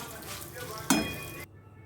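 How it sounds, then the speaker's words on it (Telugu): Tempering spices with a pinch of asafoetida fry in hot oil for a greens, mint and tomato chutney, giving a steady close sizzle with one sharp burst of crackle before it cuts off abruptly. "పైన పోపు వేసి పోపులో ఇంకొంచెం ఇంగువ అవి వేసి ఆ చట్నీ మీద వేసుకోవచ్చు. ఇదిగో వేయించేసుకుంటున్నాం."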